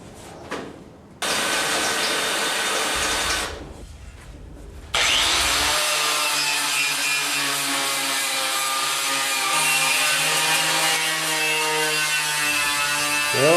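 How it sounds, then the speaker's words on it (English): Drill boring out rivets on an Allis Chalmers 310 tractor seat, bursts of grinding, buzzing metal cutting in separate runs with brief gaps between, loud and close, rising into a steady whine at the end. "I'm going to drill these rivets out"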